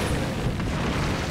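A magical blast from the strategy game Dungeons 2 blowing open a city gate, heard as a loud, continuous rumbling roar of explosion that fills the whole short moment.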